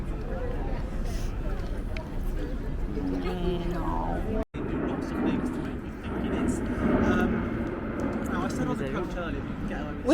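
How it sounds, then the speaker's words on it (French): Military aircraft pass overhead in the London sky, a broad, low roar swelling and fading beneath people talking nearby. "C'est des avions militaires."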